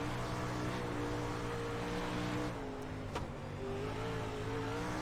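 A 360 sprint car engine races on a dry dirt track with a loud, close, sustained roar whose pitch sags as the throttle eases, then climbs again.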